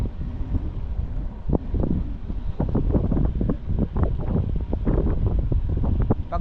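Strong wind buffets a microphone during a long road bike ride through the mountains near Dalton Pass, Philippines, a loud, gusty low roar with repeated sharp bursts and no talking.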